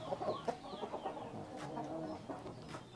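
A chicken clucks in short repeated bursts, with a rooster among the flock, close and moderately quiet, in a breeding hen setting.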